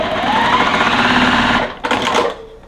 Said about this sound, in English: now we're going to go sew this one to this one